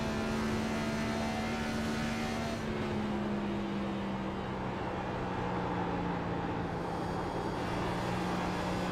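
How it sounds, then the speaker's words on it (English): A race car in a racing game corners at Nashville Superspeedway, its engine a steady sustained drone whose pitch sags gradually through the turn, with no talk over it. "What does DJ's car sound like in the corner?"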